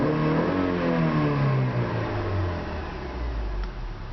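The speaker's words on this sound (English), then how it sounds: "Very good sounding motor." Engine of a 2008 Honda CR-V revs to about 4,500 RPM and then winds back down. The steady, close mechanical roar falls in pitch as it settles, with no talking.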